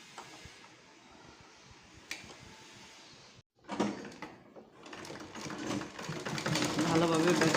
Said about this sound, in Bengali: সেলাই করে দিচ্ছি